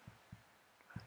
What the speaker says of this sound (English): I hear heartbeat